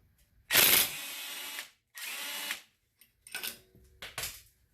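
A power tool with a 16 mm socket is used on the primary clutch bolt of a Polaris RZR 570. It fires two loud, sustained whirring bursts, then shorter stuttering impacts, close up with brief silences between and no speech.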